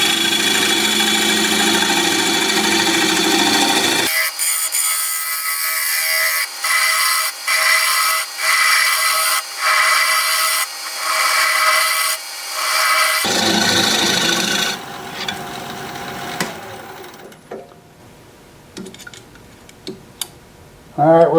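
A wood turning tool on a lathe first rubs against spinning wood in a broad steady hiss, then breaks into a series of rhythmic cutting bursts, before the lathe noise thins out and fades.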